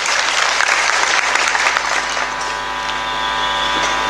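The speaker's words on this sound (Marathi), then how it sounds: "तर एकदा टाळ्या द्या मोदी साहेबांसाठी." A large crowd at an outdoor political rally claps loudly and continuously for Modi, a dense wash of applause that fades slightly toward the end.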